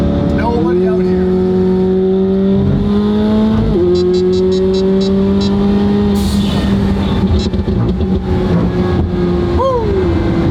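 A McLaren 720 GTR race car drives along an open road, its engine droning loud and close with gear shifts and revving, under wind noise.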